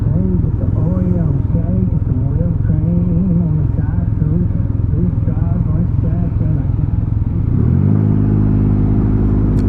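A 2024 Can-Am Ryker Sport three-wheeler with a CVT hums steadily under way, its engine note wavering rhythmically as it rides, then settling into a higher, smoother drone near the end, close and fairly loud throughout.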